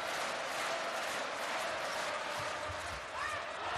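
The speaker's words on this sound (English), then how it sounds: "Crowd are loving it." Loud, steady roar of an arena crowd at a men's Olympic qualifying volleyball match between Poland and France, a dense continuous wash of cheering that swells slightly near the end.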